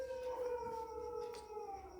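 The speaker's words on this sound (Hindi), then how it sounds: "भाई कितना भौंक रहे हैं डॉग्स" A dog howls outdoors in one long, wavering, fairly faint cry that slowly falls in pitch, with no voices.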